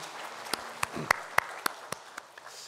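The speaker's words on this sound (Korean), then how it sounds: "하나님 앞에 영광의 박수 올려드리겠습니다." Applause at a Sunday church service thins out into a handful of sharp, scattered hand claps, spaced unevenly over a quiet room before trailing off.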